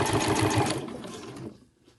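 A sewing machine stitches pom-pom trim onto a cushion cover, a close, quick mechanical whirr with rapid stitch pulses that slows and stops after about a second and a half, leaving near quiet.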